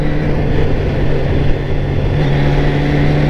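A 1999 Kawasaki ZZR 600 motorcycle being ridden through town, its engine holding a steady loud drone with a constant low tone under rushing wind noise, close and continuous.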